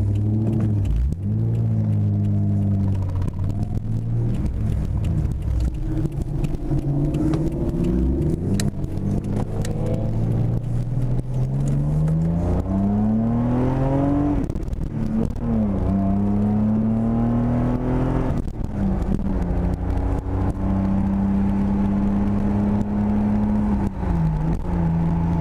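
A loud MK2 Toyota Supra engine drones steadily while the car drives along at about 35, its deep rumble rising and falling in pitch as it accelerates and shifts, continuous throughout with no talking.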